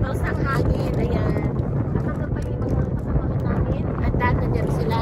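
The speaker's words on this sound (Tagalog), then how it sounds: "napakahangin na" Strong wind buffets the microphone on a Netherlands beach during clam hunting, a loud, constant broadband roar filling the whole stretch, with a voice talking faintly underneath.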